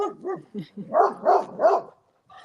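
A dog barks in a rapid series of about six sharp, close barks, the last three louder, followed by a brief pause.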